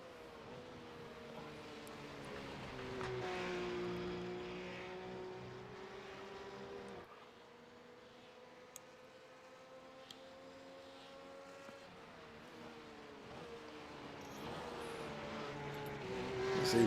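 A RUF S3 R9 race car drives at Spa, its engine whining loud and steady, climbing in pitch, dropping at gear changes and rising again as it powers away, with the whole run kept up for over sixteen seconds.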